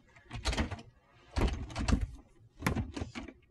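A stuck door is tried in an animated comedy scene, giving three separate bursts of rattling, thumping effort, each lasting about a second with brief pauses between.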